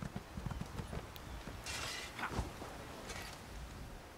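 A horse's hooves clip-clop at an even pace in The Elder Scrolls Online: Morrowind, moderately loud up close, with a few brighter whooshing game effects in the middle.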